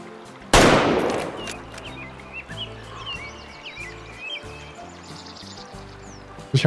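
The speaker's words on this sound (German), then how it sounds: "Ich muss jetzt schießen." A single loud rifle shot cracks out while hunting in the game Way of the Hunter, followed by a fading echo over an ambient bed of birdsong and nature sounds.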